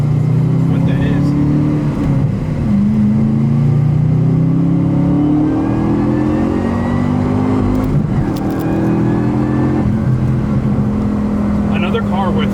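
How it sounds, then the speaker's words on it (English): A supercharged Chevrolet car engine revs loudly and steadily up close, its droning tone climbing and falling in repeated sweeps, with a possible high blower whine over the top. "Another car with an immaculate amount of blower sound."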